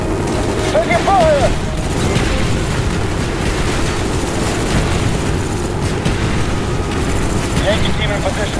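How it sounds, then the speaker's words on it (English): Sustained battle noise from the Call of Duty: Black Ops campaign, with dense gunfire and booming explosions rolling continuously and loudly through the whole stretch. "Taking fire!"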